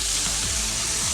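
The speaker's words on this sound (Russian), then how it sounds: "Ставим сковородочку на плиточку. В сковородочку отправляю соленое сало," Cubes of salted pork fat fry in a pan on a stovetop, giving a steady, close crackling sizzle with no voices over it.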